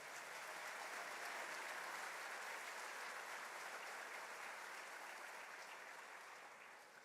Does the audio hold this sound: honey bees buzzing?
no